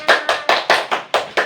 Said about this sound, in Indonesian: Tepuk tangan lebih ke semuanya